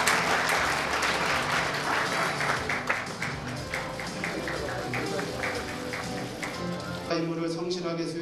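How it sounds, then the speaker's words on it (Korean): A large audience applauds steadily at a South Korean junior college graduation ceremony, dense clapping filling the room for several seconds before it thins out near the end. "큰 박수로 환영해 주시기 바랍니다"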